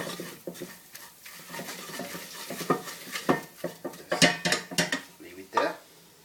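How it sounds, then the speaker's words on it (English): Chicken curry paste mixed in a pan with a utensil gives irregular scraping and clinking against the metal, growing busier and louder toward the end, close by. "And just mix it well. When you mix it like that, you can see it just comes as a paste."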